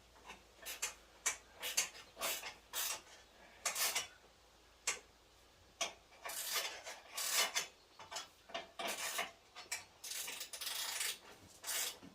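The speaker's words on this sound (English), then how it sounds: "You need to watch me tighten a few bolts in." Bolts are tightened on the under-seat fuel tank of a Craftsman riding mower in a run of metallic ratcheting clicks and scraping bursts. The bursts come close and irregular, separated by short pauses, with no speech.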